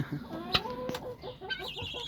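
Chickens cluck softly and repeatedly nearby, a run of short murmuring calls over a low background.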